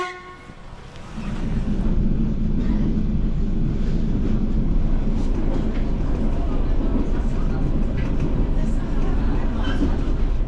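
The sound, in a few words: Soviet era train passing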